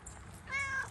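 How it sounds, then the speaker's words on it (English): Kit Kat, a friendly barn cat, gives a single short meow close by over faint background noise. "here comes the other barn cat. This is the friendly one"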